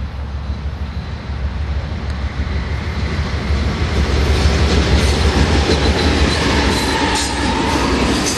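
An Amtrak passenger train passes close by with a loud, continuous rumble and clatter of wheels on rail that swells over several seconds and holds steady.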